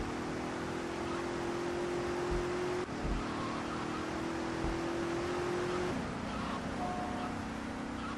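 A car engine in the video game GTA Vice City drones steadily with a sustained tonal hum that shifts pitch as the car accelerates and shifts, continuous and mid-level with road noise underneath.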